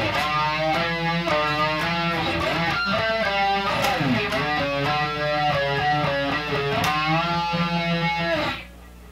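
An electric guitar playing a solo, a fast run of picked notes and bends in a steady rhythm, loud and alone before cutting off near the end.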